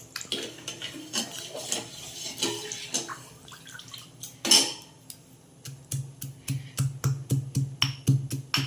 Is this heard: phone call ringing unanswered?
no